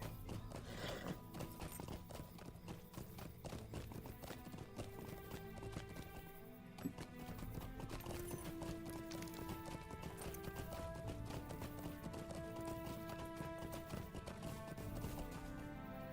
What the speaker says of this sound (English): let's get on a horse and do a little riding